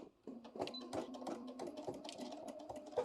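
A sewing machine stitches back and forth in short bursts to back-tack the top of a bag seam, with a quiet mechanical whir and clicking of the needle up close.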